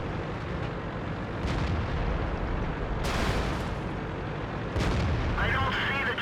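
Tank cannon fire rings out in an online tank battle video game, a few heavy booming shots over a constant rumbling battlefield ambience, with a player's voice talking now and then.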